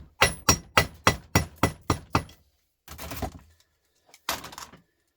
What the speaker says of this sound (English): I'm going to give this one a slap of the hammer